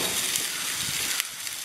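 Chicken drumsticks sizzling on an outdoor grill, a close and steady frying hiss with a few light scrapes of a spatula along the grate bottom.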